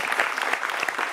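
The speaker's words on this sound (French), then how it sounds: "On l'applaudit pour l'encourager." A studio audience on a French midday TV show claps to encourage two performers, Baz and Thérèse, as they start; dense, steady applause fills the short moment without any talk.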